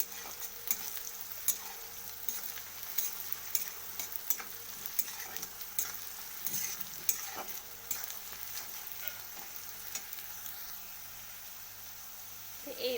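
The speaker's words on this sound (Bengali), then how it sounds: "তো এই পেঁয়াজটাকে একটু বাদামি বাদামি করে ভেজে নিতে হবে।" Onions frying in a pan until browned for a duck egg curry give a fairly faint, continuous crackling sizzle, dotted with scattered sharp ticks and pops.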